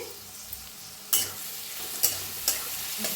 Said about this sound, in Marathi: भाजून घेऊया कांद्याला कांद्याच्या पातीला